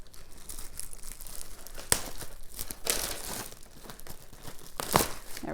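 Plastic packaging around a pecan halva spread being cut and torn open, close crinkling and tearing with a couple of sharp snaps, continuous rustle throughout.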